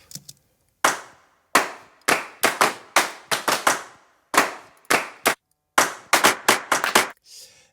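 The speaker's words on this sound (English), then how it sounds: "Hand clap loops." Looped hand claps from a KSHMR Vol. 4 sample pack, sharp dry hits in quick rhythmic bursts with brief gaps between phrases, loud and close with no voices.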